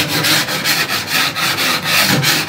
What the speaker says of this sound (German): Oder aber man entgratet die Kanten mit Schmirgelpapier.